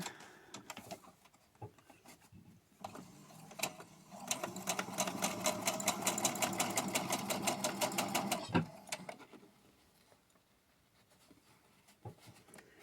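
A sewing machine top stitching along the folded edge of a fabric face mask, running in a steady fast whirring burst of several seconds, preceded and followed by quieter handling clicks and taps.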